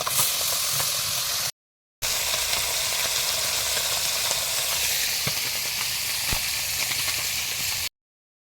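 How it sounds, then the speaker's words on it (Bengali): Fish sizzling steadily in hot oil in a karahi, a continuous close, loud frying hiss with a brief break partway through. "এবারে এই মাছগুলো ভেজে নেব।"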